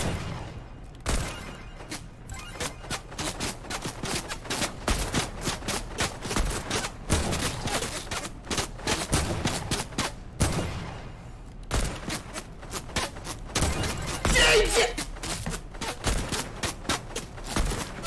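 Rapid bursts of close gunfire in Fortnite, sharp repeated shots and spraying volleys crackling almost nonstop with short pauses, loud and dense throughout.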